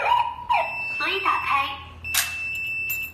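Electronic padlock alarm beeping on a door system when the side lock is opened while the central lock is engaged; steady high tones start partway through and repeat in short bursts, with a voice talking before them.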